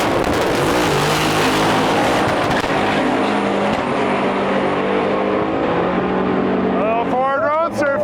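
Ford Roadster drag racing car roaring at a no-prep drag race, a loud sustained engine drone with shifting harmonic tones throughout, then a rising whine near the end as another engine revs up.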